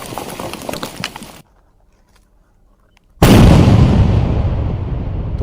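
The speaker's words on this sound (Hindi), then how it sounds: "और इस धमाके की एक बार आवाज सुनिए।" A 45 kg IED detonates in Bijapur, Chhattisgarh, a sudden loud blast that follows a noisy stretch and a brief near-silence, then rolls on as a heavy, slowly fading roar.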